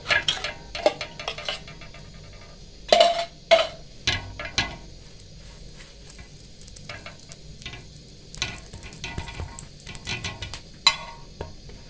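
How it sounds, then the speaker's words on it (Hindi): A burger bun is frying in a little oil on a street-style cooking surface, giving a soft, continuous sizzle broken by scattered clinks and scraping taps from utensils against the pan. "बर्गर का ऊपर वाला ऐसा इसको फ्राई कर लेंगे हल्का सा ऑयल डाल के।"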